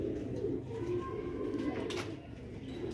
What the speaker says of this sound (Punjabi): ਇਹ ਕਬੂਤਰ ਦਾ ਤੁਹਾਨੂੰ ਸ਼ੌਕ ਕਰਾਇਆ